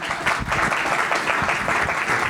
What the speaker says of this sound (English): Round of applause for Kristen.